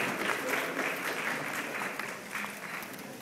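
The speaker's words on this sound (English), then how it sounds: "a round of applause for all our guests from Stamford Bridge" Steady applause from an audience at a Chelsea FC press conference in a hotel, a dense even patter of clapping that carries on without a break.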